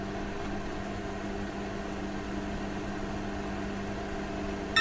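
A microwave oven heating food gives off a steady, unbroken mechanical hum, moderately loud and close, ending in a brief click.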